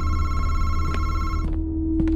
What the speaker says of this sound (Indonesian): Ada telepon.